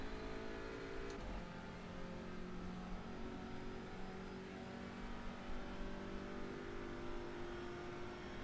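A race car engine in iRacing at Road America roars steadily close up, with high-pitched brake squeal and tire noise mixed into the continuous motor drone.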